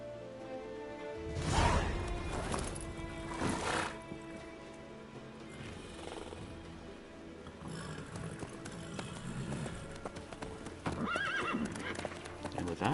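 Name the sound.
horse hooves clip-clopping and neighing in The Witcher 3 video game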